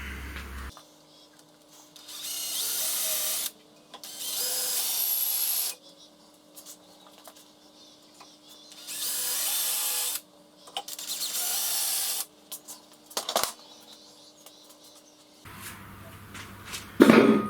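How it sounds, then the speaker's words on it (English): A power drill bores into a part for a CNC router build in several separate bursts of whirring, with quiet pauses between each run. "now I can drill it."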